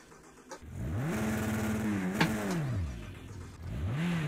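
Caterham sports car engine revving in Project Cars 2, rising and falling in pitch through several throttle blips and gear changes, loud and close with no talk over it.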